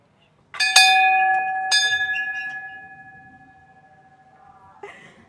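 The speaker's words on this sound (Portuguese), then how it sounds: "eu vou fazer meu pedido e vou tocar o sino" A bell at the Saint Anthony festival is struck twice, close and bright, with each ring lingering in a long fading hum; a soft knock follows near the end.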